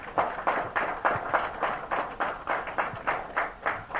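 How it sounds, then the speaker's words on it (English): An audience at a governor's event claps in a slow, regular unison beat, distinct bursts evenly spaced about three per second, moderately loud and steady. "Please give me a big round of applause."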